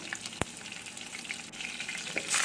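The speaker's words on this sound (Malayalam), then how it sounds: "പാൻ അടുപ്പത്ത് വെച്ച് ഓയിൽ ഒഴിച്ചതിന് ശേഷം കടക്ക് ഇട്ട് കൊടുക്കുക" Chopped garlic, green chili and mustard seeds crackle and sizzle in hot oil, a soft spitting sound with a sharp tap near the start and a brief surge at the end.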